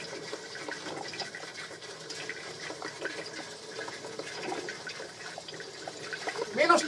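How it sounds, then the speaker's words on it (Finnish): Water runs steadily from a tap, a continuous hissing splash at moderate loudness that swells slightly near the end, with no talking. "otetaan nyt sitä vettä tästä"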